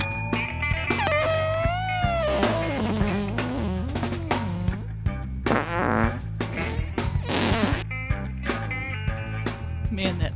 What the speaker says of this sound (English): that fart was grody